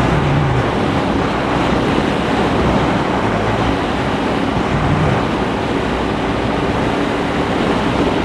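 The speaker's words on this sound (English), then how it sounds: "So accelerating up onto the motorway now." Roaring wind blast and engine noise from a Ducati Monster R motorcycle accelerating onto a motorway without a fairing, a loud continuous rushing that stays steady throughout.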